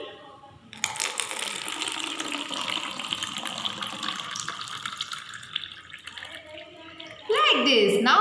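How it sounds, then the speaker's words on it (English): Water is poured from one drinking glass into an empty one, a steady trickling splash lasting several seconds, with a brighter, louder burst near the end. "Now I am going to pour this water into the another"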